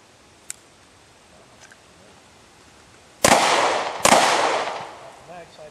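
Two loud, sharp pistol shots at an outdoor shooting range, a little under a second apart, each with a lingering reverberant tail, after a faint distant pop and a quiet stretch.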